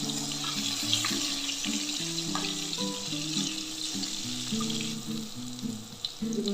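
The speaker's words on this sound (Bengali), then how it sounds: "এবার আমি এইভাবে বাকি বেগুনগুলো ভেজে নেব।" Eggplant slices fry in hot oil, a steady close sizzle running throughout, joined by faint clinks and stirring noises.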